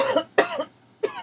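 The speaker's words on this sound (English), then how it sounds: "Here comes a cough." Three short, sharp coughs from a person, the second strongest, spaced irregularly over about a second with quiet gaps between.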